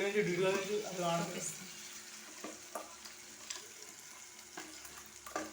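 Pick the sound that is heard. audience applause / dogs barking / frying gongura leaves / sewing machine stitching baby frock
frying gongura leaves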